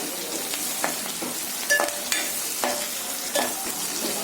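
Onions, green chillies, garlic and capsicum frying in a pan, with a steady close sizzle and occasional clinks and scrapes of stirring.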